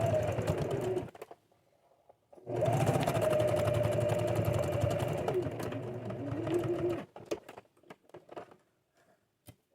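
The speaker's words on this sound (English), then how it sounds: "I'm going to sew right on the edge of that, about 1/8 of an inch, or a scant quarter" Sewing machine stitching along the edge of a fabric pot holder, a close, steady whirring hum in two runs of a few seconds each, separated and followed by quieter handling clicks.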